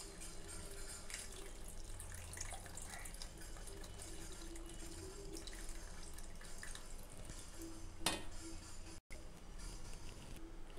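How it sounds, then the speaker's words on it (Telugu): Tamarind water poured into a pan of Andhra-style bommidala fish curry, a steady running liquid pour heard up close with a brief splash near the end and no talking. "ఇప్పుడైతే చింతపండు పులుసుని అయితే బొమ్మడాయల పులుసులో అయితే పోసేస్తున్నా"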